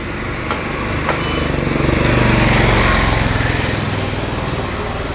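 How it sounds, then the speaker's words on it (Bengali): Loud motor vehicle traffic on a crowded road where a market is held: one close, buzzing engine swells louder in the middle and then eases slightly, droning without a break. "গাড়ির প্রচণ্ড আওয়াজ"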